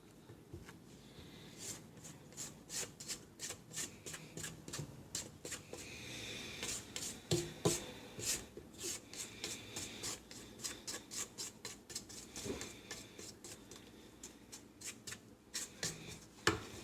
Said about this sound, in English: Let's go ahead and scrape it down.